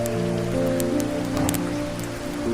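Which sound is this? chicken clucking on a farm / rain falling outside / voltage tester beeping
rain falling outside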